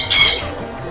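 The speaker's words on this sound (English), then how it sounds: "There's a bird." A single sharp, loud bird squawk rings out in the Mario Kart DS race, brief and shrill, then trails off into quieter game sound.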